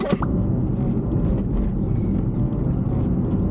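Steady low engine rumble and road noise from a car driving along, continuous and fairly loud throughout with a brief higher squeak near the start.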